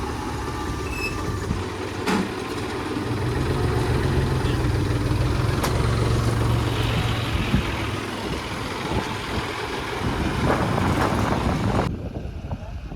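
A tractor engine runs steadily at idle nearby for several seconds, a continuous low rumble with mechanical rattle and no talking over it.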